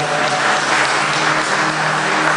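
Sustained, loud applause fills the room as a church congregation claps for Jesus before taking their seats, a thick, steady roar of many hands with no breaks.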